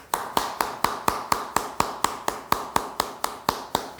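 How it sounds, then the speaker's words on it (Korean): A church congregation at a Sunday worship service claps in praise, in a steady, even rhythm of about four sharp claps per second that carries on without talk. "우리 하나님께 영광의 박수를 올려드리겠습니다."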